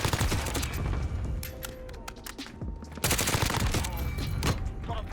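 Grau assault rifle gunfire in Call of Duty: Modern Warfare multiplayer, close and loud rapid bursts with sharp cracks and a brief lull before firing resumes, over dense game noise.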